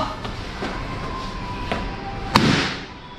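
Firecrackers are thrown and burst outdoors, with a few faint pops followed by one loud sharp crack that leaves a short hissing, crackling tail against steady background noise.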